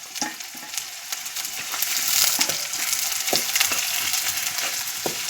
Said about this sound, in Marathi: कढईत कांदा परतावून घ्यायचे मस्त लालसर होईपर्यंत परतावून घ्यायचा कांदा